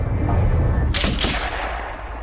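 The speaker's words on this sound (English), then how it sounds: "The shooting is an attack on Chinatown's largest gang, the Hua Ching." A couple of sharp, loud gunshots ring out close together during a gang attack in Chinatown, cracking sharply above a rumbling background.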